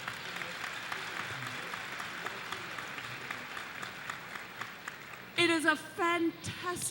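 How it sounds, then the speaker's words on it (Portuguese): A seminar crowd in a large hall claps with faint, scattered patter at a distance, then a speaker's voice comes in clearly over it near the end. "Então, uma salva de palmas."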